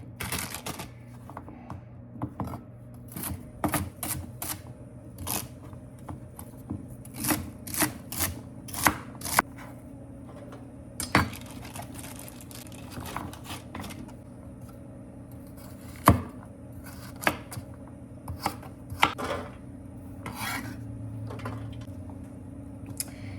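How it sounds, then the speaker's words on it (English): Knife chopping vegetables for a cauliflower soup on a cutting board, a long series of crisp, close taps coming in quick runs with short pauses between them. "I'm just gonna prep and chop the vegetables for the soup tonight"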